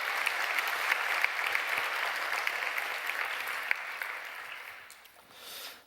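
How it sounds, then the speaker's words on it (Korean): A church congregation claps in a steady, full round of applause that holds for several seconds and then tapers off near the end. "대본을 쓰신 강영동 선생님, 또 영상을 만든 신현빈 형제, 다 감사한 마음으로 한번 다시 한번 박수를 칠까요?"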